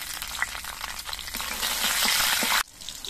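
Black cumin and slit green chillies crackle and sizzle in hot oil in a pan, a steady, close frying hiss that cuts off abruptly near the end.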